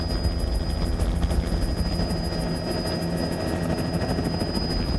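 Helicopter rotor thumping steadily and loudly throughout, flying over Black Forest power lines during an inspection flight, with continuous engine roar and no voices.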